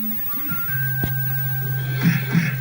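A repaired Double Dragon arcade board plays game sound effects: a steady electronic tone with short chirps and bleeps, moderately loud, with a faint voice in the background.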